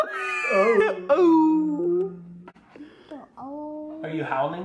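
A young child gives a long, wavering wolf-like howl in a home, the voice imitating the animal with rising and falling wails that break off and start again, loud and close.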